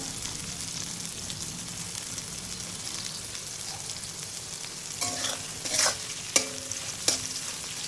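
Onions fry in a pan with salt for mutton curry, a soft continuous sizzle broken near the end by a few sharp scrapes and knocks as a spoon stirs them.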